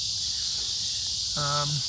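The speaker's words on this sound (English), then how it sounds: "The cicadas are a little loud out here tonight." Cicadas buzzing outdoors on a summer night, a loud continuous high drone filling the air, with a short low tonal sound briefly rising underneath near the end.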